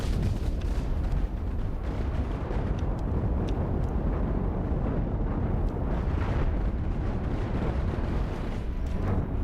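Nuclear missiles firing and detonating in the space-ship game Cosmoteer, a dense continuous rumble of overlapping blasts and crackling bursts, loud and sustained, with no talking.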